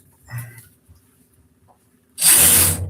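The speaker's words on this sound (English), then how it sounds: "I switch my drill. Now we're going in." Cordless drill driving screws into the door of an LG dryer, model DLE71: a quiet early whir, then a loud sustained grinding burst near the end.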